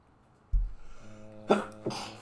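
A short sneeze, close and moderately loud, following a low thump, with a brief second burst right after in a quiet room.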